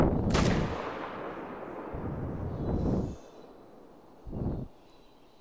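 Rifle shots fired at an animal in theHunter: Call of the Wild, three loud booming reports with rolling echoing tails, the first sharpest, the others spaced roughly a second and a half apart.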